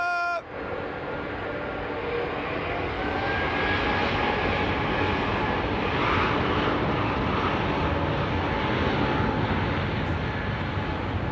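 A JetBlue airliner at London Heathrow Airport roars steadily close by, its broad jet engine noise holding loud and continuous throughout with no speech.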